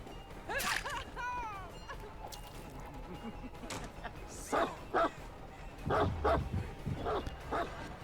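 Houndmaster's dog in the Dead by Daylight video game: a few short yips and whimpers early, then scattered sharp thuds and bursts of noise from the game.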